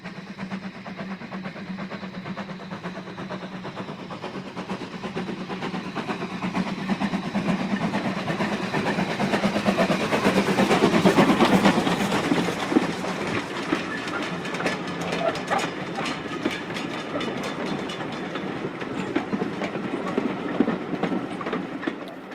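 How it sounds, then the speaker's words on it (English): Nunlow, a steam locomotive, runs non-stop through Oakworth station, a sustained rail rumble with rhythmic clickety-clack of wheels that builds to a loud pass and then fades slightly. "Nunlow is seen finally as it passes non-stop through Oakworth."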